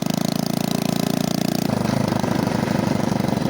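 A vintage 1980 Honda Mini Trail 70 motorcycle runs in third gear with a small single-cylinder engine buzzing loud and close. Its rapid, even pulsing shifts in pitch partway through, and no one speaks.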